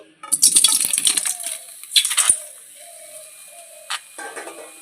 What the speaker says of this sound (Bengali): কড়াইটা গরম হয়ে গেছে কেটে রাখা টমেটোগুলো দিয়ে দিচ্ছি